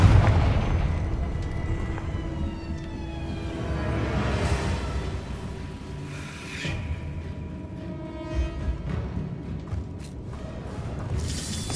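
Confringo blasting spell explosions in a Harry Potter video game, heavy booming bursts with rumbling low-end and crackling debris, loud and continuous across the stretch, with no talk.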